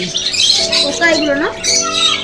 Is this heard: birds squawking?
yes